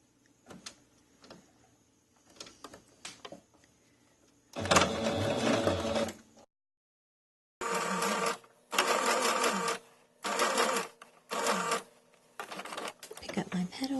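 Sewing machine stitches an eye onto a fabric toy sloth in several short bursts after scattered clicks of lowering the presser foot, with pauses between runs.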